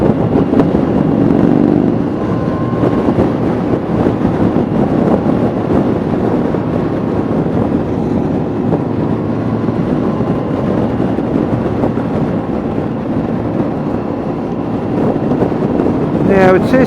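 Yamaha FJR1300 touring motorcycles riding along on a group ride out of Perth, a steady drone of engines and road noise mixed with heavy wind buffeting on the microphone.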